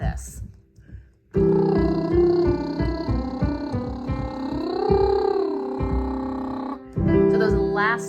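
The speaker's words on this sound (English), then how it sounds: "On a lip buzz or a lip trill, it'll sound like this" A singer does a lip trill warm-up, lips buzzing on a sustained pitch that slides up and back down through a scale pattern, loud and close for about five seconds after a short spoken lead-in.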